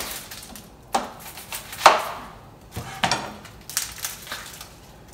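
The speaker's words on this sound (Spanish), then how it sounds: "Voy a picar este jitomate." A knife chops a tomato and a piece of onion for chicken broth, making a handful of sharp, close crunching thuds on a cutting board, spaced about a second apart, with no talking.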